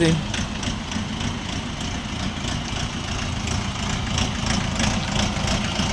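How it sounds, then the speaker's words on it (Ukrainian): The four-cylinder engine of a Shifeng 404 four-wheel-drive tractor idles steadily throughout during loading, a continuous low rumbling drone with no pauses. "Відвантажуємо тракторця Шифен 404."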